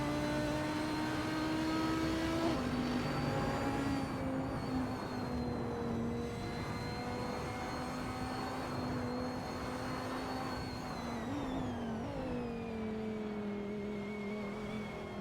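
GT3 race cars roar around the Maple Valley short track in a racing game, a loud, sustained engine drone whose pitch rises and falls through gear changes and corners, with no talk.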